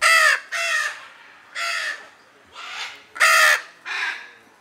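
Lear's macaws, endangered blue parrots of Brazil, give six loud, harsh calls in a steady back-and-forth rhythm, close by and clear against a quiet background.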